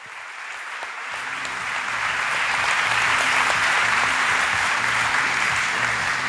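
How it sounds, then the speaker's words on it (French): Applause at the Biomim'expo conference in the Hôtel de Ville de Paris greets a speaker, starting sparse and quickly swelling into a loud, sustained thunder of many hands clapping. "sous un tonnerre d'applaudissements"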